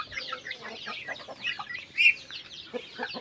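Backyard chickens in a rural province yard cluck and murmur continuously nearby, with overlapping calls and one sharper squawk in the middle.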